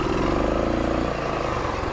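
A Rokon Trail-Breaker 2WD motorcycle engine revs hard while crawling over rough trail terrain, a steady, loud, close mechanical drone that dips briefly then holds on.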